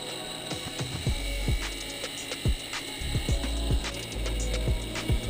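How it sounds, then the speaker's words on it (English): A golf club pressed against a motor-driven abrasive wheel loaded with black compound, a continuous buffing whir broken by repeated knocking, ratcheting bumps as the head is worked, close and fairly loud, with no talking. "Next up, the black compound abrasive wheel. Think of this as leveling out the finish and smoothing deeper marks."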